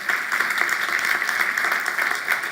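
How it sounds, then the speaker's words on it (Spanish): Worshippers in a Spanish-speaking church break into strong, steady applause for the Lord, a crisp mass of handclaps held at an even, lively level. "Vamos a darle un aplauso al Señor."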